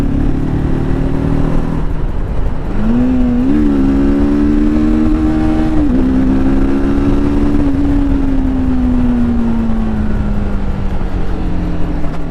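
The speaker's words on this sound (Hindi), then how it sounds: "दोबारा से एक बार एक्सीलरेट करते हैं बाइक को।" A TVS Apache RTR 310 motorcycle engine revs up in a smooth, rising whine, then holds and slowly eases off, close over steady wind rush with no talk.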